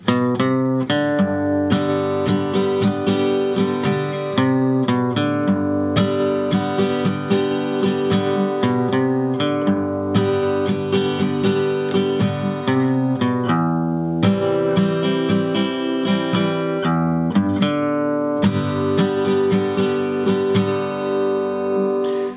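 An acoustic guitar plays the plucked intro riff of a song, mixing picked single notes and ringing chords in a steady rhythm, close and clear with no voices.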